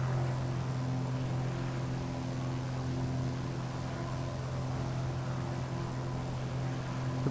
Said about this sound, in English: I love that droning sound of the engine.